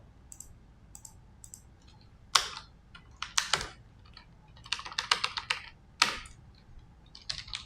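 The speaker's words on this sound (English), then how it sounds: "let me just type it down." Typing on a computer keyboard clicks in quick irregular bursts of keystrokes with short pauses, close and fairly quiet, no voices.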